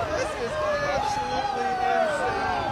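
A large outdoor crowd gathered for the Jacksonport Polar Bear Swim, people from all over the United States, some with dogs and pets, makes a steady hubbub of chatter and shouts, with voices rising and overlapping throughout.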